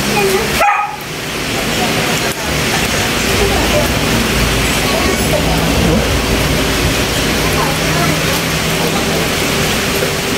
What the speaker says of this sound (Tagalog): Hindi na natapos itong ulan na ito.